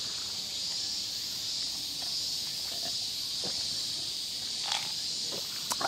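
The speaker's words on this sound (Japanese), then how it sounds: "めちゃめちゃセミの声がするんで" Cicadas drone in a summer forest on a Tokyo morning, a steady high buzzing that fills the background at moderate loudness, with a few faint nearby rustles and clicks scattered over it.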